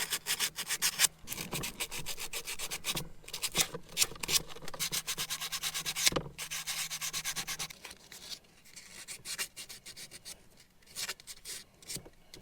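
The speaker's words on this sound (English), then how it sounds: "Before I reconnect the battery, I'm actually going to clean off all the leads." Rust being scrubbed off RV travel trailer battery leads, a steady close-up rubbing and scraping in quick back-and-forth strokes with a few short pauses and no talk.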